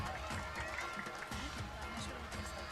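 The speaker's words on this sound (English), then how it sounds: "Clap everyone." Audience clapping at a school annual day ceremony, a steady patter of many hands at moderate distance, mixed with crowd murmur and faint voices.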